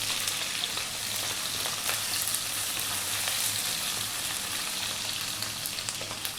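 Onion, celery and peppers fry in sunflower oil in a hot wok, a steady close, loud sizzle that hisses without letup throughout.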